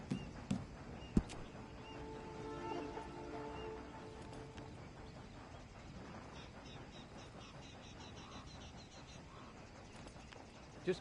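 Horse hooves clip-clopping in the Red Dead Redemption 2 video game, a few faint sharp knocks early on over a quiet steady ambient background.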